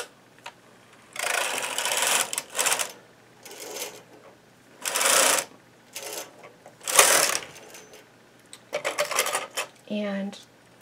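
A knitting machine carriage pushed across a row of yarn at loose tension, several loud rasping sweeps of a few seconds each separated by pauses, ending with a brief clunk and faint voice.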